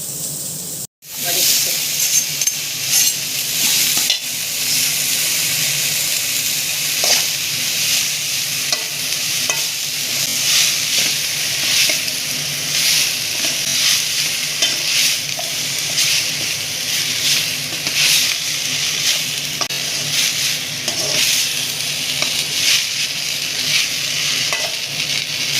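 Mint greens sauté in a hot pan with a steady sizzle and repeated scraping stirs throughout, close and continuous, with brief faint voices in the background.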